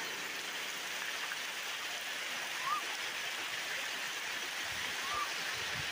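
Steady hiss of heavy rain falling all around at Garden of the Gods, a dense even wash of sound with a couple of faint chirps rising above it.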